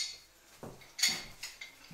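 A heavy-duty 14-inch Sears American pipe wrench, made in Japan, clanks against an old brass drain pipe coupling, giving a few sharp, close metallic clinks spaced irregularly with quiet gaps between.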